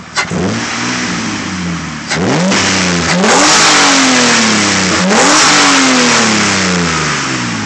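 A 2003 Mitsubishi Eclipse GT engine, freshly treated with Sea Foam spray, revs loudly and close up in repeated rising and falling sweeps, with no voices.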